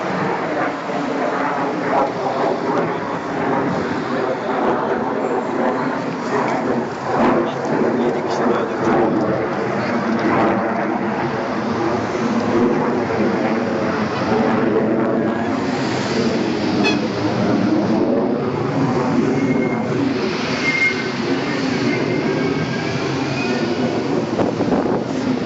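Jet aircraft resembling an F-16 passing overhead in Eskisehir, Turkey: a sustained, loud, broadband roar lasting many seconds, with someone talking over it throughout.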